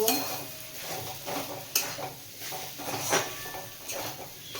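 Boiled potato pieces go into hot oil in a pan for ghugni, with a soft sizzle under repeated scraping and stirring clinks of a spoon against metal, several sharper knocks standing out.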